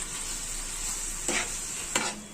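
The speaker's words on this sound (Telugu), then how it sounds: "ఈ సాసులన్నిటినీ బాగా కలుపుకుందాము ఒకసారి" Chilli sauce, green chilli sauce and tomato ketchup stirred together in a pan for egg chilli, giving a soft steady scraping under a faint sizzle, with two brief louder stirring strokes.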